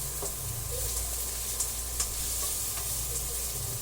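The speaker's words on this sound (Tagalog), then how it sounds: "Sunod po natin ang bawang. Igisa lang po natin ng maigi hanggang sa lumabas yung kanilang aroma." Garlic sautés in a hot pan, giving a steady close sizzle and frying hiss broken by a few light stirring clicks, with no talking.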